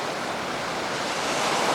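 Ocean surf breaking near a beach in Cabo, Mexico, a loud continuous roaring wash of waves.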